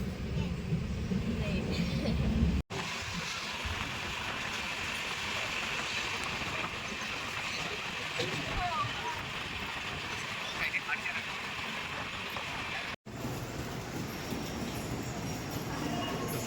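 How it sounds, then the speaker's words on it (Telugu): A steady, loud rumble of a moving train with rattling carriage noise, heard from inside, with voices faintly mixed in. "దేవా, బాగుందా ట్రైన్?"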